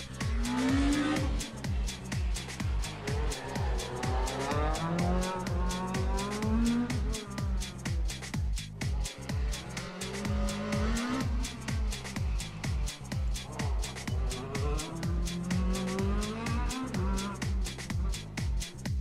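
A rally car drives a special stage at Champéry in the Rallye du Chablais 2022. Its engine rises and falls in loud, repeated revving sweeps through the gears, with sharp pops between shifts, and nobody speaks.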